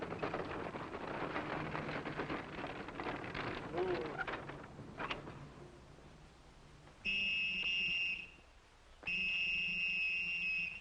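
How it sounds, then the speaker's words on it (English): A whistle blown in two sustained shrill blasts, loud and close, following a stretch of indistinct background noise and voices. "Oh, man, stop blowing that whistle."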